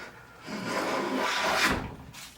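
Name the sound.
Jorgensen 60 1/2 block plane shaving wood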